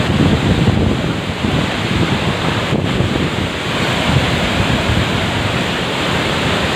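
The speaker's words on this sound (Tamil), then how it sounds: "இப்போ இதுதான் அந்த ஃபால்ஸ்." A forest waterfall near Ooty roars in a dense, constant rush of falling water, loud and close with some wind buffeting the microphone, and no talking.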